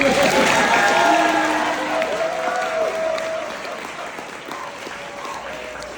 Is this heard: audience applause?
yes